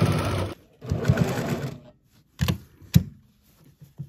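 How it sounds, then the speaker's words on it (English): A sewing machine edge stitches a fabric side-pleat face mask about an eighth of an inch from the edge, running in close, loud bursts of rapid needle chatter separated by short pauses and a few sharp clunks. "I'm gonna edge stitch this"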